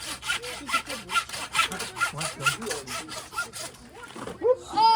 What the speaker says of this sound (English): start sawing right in there